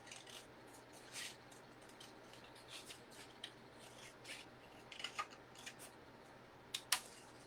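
Scissors cut around paper for a witch gnome craft, making quiet close snips and soft rustling with a few sharper clicks of the blades, no talking.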